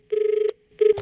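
A telephone rings for an incoming call, two short electronic ring bursts separated by a brief pause, clear and close with no talking.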